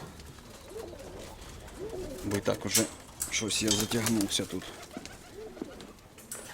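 Pigeons coo in repeated throaty bursts inside a breeding loft, close and clear, while someone talks over and between the calls.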